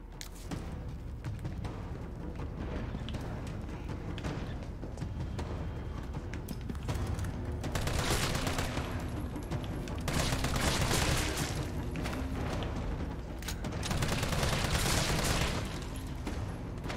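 Continuous gunfire in Resident Evil 3 Remake, dense rapid shots and impacts layered with game ambience at a constant loud level throughout, no pauses between bursts.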